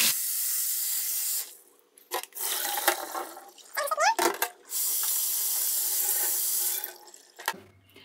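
Blackcurrants are rinsed in running water for homemade berry juice, with a steady tap stream broken by pauses, splashing and sloshing as the berries are moved about in a sink.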